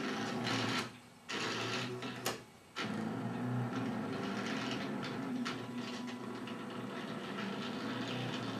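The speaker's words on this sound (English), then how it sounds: "You just have to keep in mind it is cutting on a glass mat." An electronic cutting machine cutting on a glass mat gives a steady mechanical whir and rattle close by, broken by two brief pauses early on before settling into a continuous droning hum.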